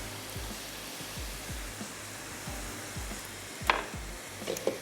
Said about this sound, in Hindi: जो सूजी के हमारे स्नैक्स हैं इनको भी हम फ्राई कर लेते हैं